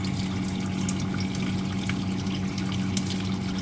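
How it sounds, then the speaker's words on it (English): Steady water flowing through a pipe fitted with a central orifice meter, a continuous even rushing and humming flow heard close up with no pauses and no voices. "water is flowing through the orifice meter, and orifice is at the center of this pipe"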